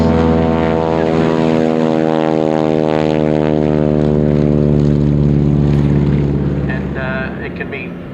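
An SNJ and a Nanchang propeller aircraft taking off together at an airshow, a loud sustained droning roar of radial engines with strong harmonic tones that slowly shift in pitch, fading slightly at the end.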